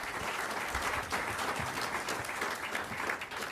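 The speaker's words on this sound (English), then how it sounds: "Please give these candidates another round of applause." Spectators at an Oregon 3rd District candidates debate break into sustained applause, an even, fairly distant patter of many hands clapping without pause.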